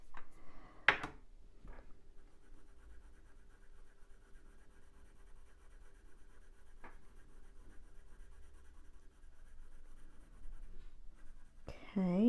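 Pencil strokes on drafting film while drawing chickens, a soft steady scratching and rubbing that runs through most of the stretch, with a few sharper taps and a louder rustle near the end.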